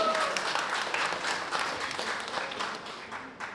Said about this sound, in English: Another round of applause for all